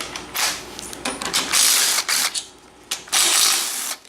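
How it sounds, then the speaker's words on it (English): A ratchet clicks in quick bursts while unbolting a master cylinder during a rear suspension teardown, loud and close, with short pauses between runs of turning. "So I'm going to go ahead and unbolt the master."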